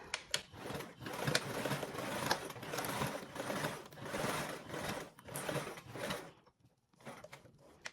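A sewing machine runs steadily, stitching a seam with a 3/8 inch allowance on a fabric charm project, in long continuous bursts with a brief pause near the end.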